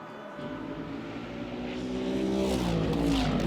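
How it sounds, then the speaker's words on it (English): A Porsche GT race car of the GW Schutzer team, driven in the 2015 GT Masters race at the Red Bull Ring, approaches with a steadily rising engine drone that swells louder and shifts pitch as it passes nearby. "There is P3 with Philipp Eng at the wheel of the GW Schutzer Porsche."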